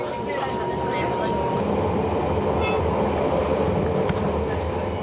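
Steady rumbling and clatter of a moving tram in Stockholm, a continuous loud rolling drone with faint rattles and brief squeals throughout, murmuring voices low underneath.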